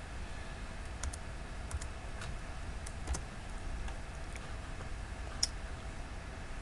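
Scattered keyboard keystrokes clicking at a computer during CAD dimensioning work, sparse and fairly faint over a steady background hum, with no talking.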